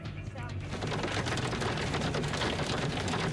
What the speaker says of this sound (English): yep, listen to that. Hail and big hail